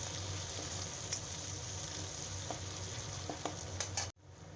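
Chopped tomatoes fry in a pan for a Sitol fish curry, giving a steady, close sizzling hiss with faint stirring clicks that cuts off abruptly near the end before resuming.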